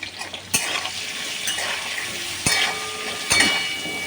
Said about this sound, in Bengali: আলুগুলো ভাজার জন্য দিয়ে দিচ্ছি।